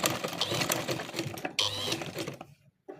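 A sewing machine stitches along a trouser waistband toward the point where the flap joins, running in a steady continuous whir for about two and a half seconds before stopping, with a brief pause and restart at the end.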